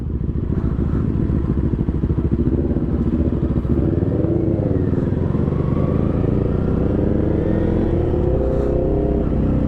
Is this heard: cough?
no